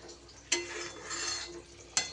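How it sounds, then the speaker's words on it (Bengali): Thick paneer malai gravy stirred in a pan, two sharp spoon knocks against the metal with a soft scraping, bubbling texture between them, quiet and close. "গ্রেভি কিন্তু আমার খুব ঘন, নিচে একটু নাড়িয়ে নাড়িয়ে দিতে হবে।"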